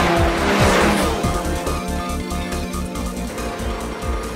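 Two twin-turbo sports cars, a 600-horsepower L-type and a 700-horsepower flat-six, race hard in an animated street race: roaring engines rise and fall in pitch with brief tire squeals, loud and continuous, with no talk.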